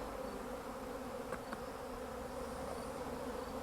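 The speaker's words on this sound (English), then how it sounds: "have some surplus bees on some for sure, and they will be put to work storing that sugar syrup" A steady swarm of honey bees buzzing around beehives being fed sugar syrup, a continuous close drone with no talk.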